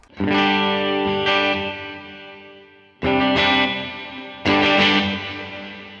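Electric guitar chords through a Line 6 Helix deep reverb ring out three times, each swelling and sustaining with a thick, low, echoing tone before the next strike.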